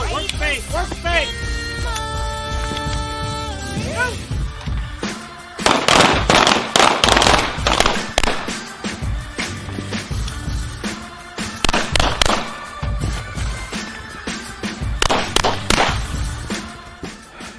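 Gunshots ring out during shooting drills at a firing range, a long run of sharp, loud cracks in clusters and irregular bursts over a dense, noisy background.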